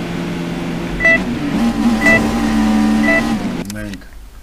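Car in the video game Alarm für Cobra 11 Nitro droning along with a steady engine hum, periodic beeping tones layered on top, and a sharp cut-off near the end; a voice talks over it.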